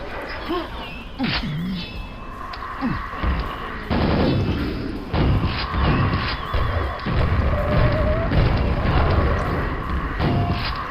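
Grenades detonate in Quake during a fast, high-action custom map, several dull thuds and blasts landing in quick succession over a busy layer of game effects and gunfire, with a pair of closely spaced explosions.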